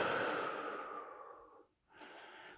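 Heavy, close breathing after a kettlebell exercise: one long drawn exhale that fades out, followed by a short inhale.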